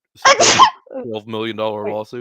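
A single loud, close sneeze bursts out, immediately followed by a person speaking.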